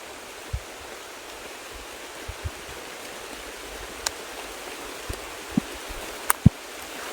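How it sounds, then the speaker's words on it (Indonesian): Heavy rain falls as a soft, even hiss with scattered drips and taps standing out now and then, steady throughout. "Turun hujan teman-teman."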